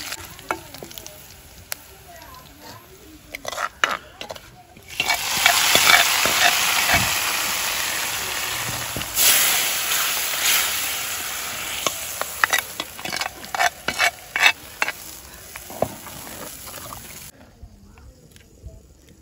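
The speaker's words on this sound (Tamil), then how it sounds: "வெங்காயம் நல்லா வதங்கிட்டு கருவேப்பிலை போடுறேன்." Onions and curry leaves fry in a pan for a dried seer fish curry, a loud sizzling burst building after a sputtering start, with scattered stirring clicks and taps as it fades back down.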